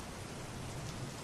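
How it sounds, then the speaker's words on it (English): Heavy rain pours steadily and densely, a continuous close wash of drops on hard surfaces with a low rumble underneath, loud and unbroken throughout with no voices. "The rain blurs her vision"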